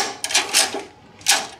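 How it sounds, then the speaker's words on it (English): Knob being turned on a Watling "Tom Thumb Fortune" penny scale to advance the fortune tape, giving a few close, crisp mechanical ratcheting clicks in short bursts. "If you turn the knob to select your fortune,"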